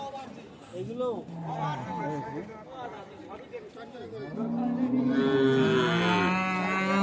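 Holstein Friesian cattle moo in long, low calls amid the chatter of a busy crowd at a cattle market, and several voices talk nearby throughout.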